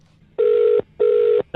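A telephone call goes through with two evenly spaced ringback tone bursts, each a clear steady electronic buzz lasting under half a second, heard alone and close.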